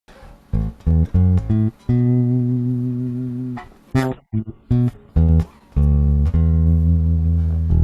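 Dry electric guitar split through amps with no effect, played as short plucked notes and chord stabs followed by longer ringing chords, loud and close with clear gaps between phrases.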